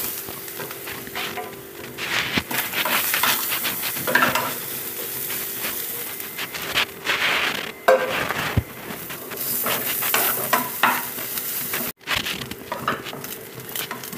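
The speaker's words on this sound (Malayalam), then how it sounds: "അപ്പോൾ ആദ്യം തന്നെ നമുക്ക് തേങ്ങ വറുത്തെടുക്കാം" A small piece of coconut roasting in coconut oil in a clay pot gives a steady, close sizzle and crackle, broken by repeated scraping stirs throughout.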